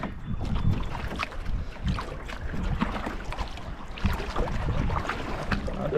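Strong wind buffets the microphone in uneven gusts on a canoe trip across a small Algonquin lake, with soft paddle strokes and water sloshing near the boat.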